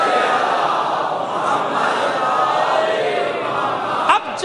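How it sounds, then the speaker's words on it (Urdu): A large congregation loudly recites salawat together during a Muharram majlis, a sustained dense roar of many voices filling the space from start to finish with no break. "اتنی بلند آواز سے ایک صلوات بھی عنایت فرما دیجئے محمد و آل محمد"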